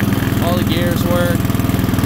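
Murray riding lawn mower with a 12hp Tecumseh engine and 38-inch deck, driving at top speed: a steady, throbbing single-cylinder drone runs throughout, close and loud.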